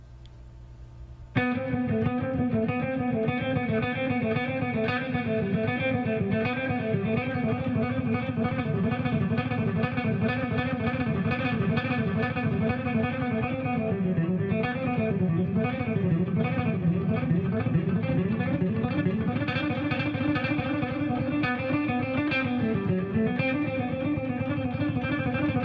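Distorted electric guitar plays a continuous run of fast 16th-note picking, combining varied rock technique exercises into rapid melodic fragments with shifting phrases, loud and close for the whole stretch after a brief quiet start.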